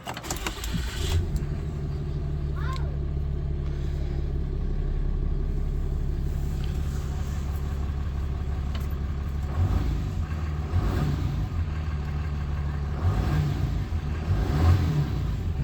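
A 2018 Ram 2500 Laramie pickup truck engine, warm, runs at a steady, loud idle, with a deep continuous rumble and slight swells in its pitch throughout.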